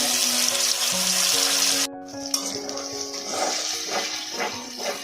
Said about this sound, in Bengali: এবার আমি দিয়ে দেব আদা আর টমেটো বাটা।